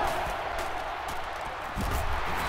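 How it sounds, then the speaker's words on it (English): Stadium crowd noise in NCAA 12 during a Miami vs Oregon game, a steady loud roar of cheering over the short stretch with a brief swell near the end. "So this crowd is making their presence felt."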